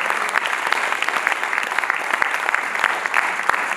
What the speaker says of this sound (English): giving a clap offering to the Almighty God